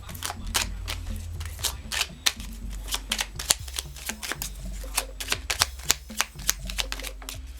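Moon magic oracle cards being shuffled by hand, a fast run of crisp flicking and riffling clicks close up, with a low hum underneath.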